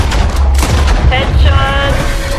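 Loud, close gunfire from the video game Red Dead Redemption 2, with booming shots and echoing reports over a continuous dense background, while a voice speaks over it.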